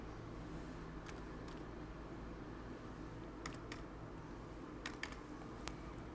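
A code typed on a computer keyboard, a few scattered quiet key clicks in short bursts over a steady low room hum, no voices.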